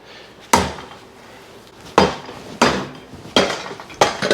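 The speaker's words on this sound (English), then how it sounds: "I may need to move to a bigger hammer." Five loud, heavy hammer blows ring out on the metal of a stuck Honda CX500 engine at an uneven pace, each a sharp clang that quickly dies away.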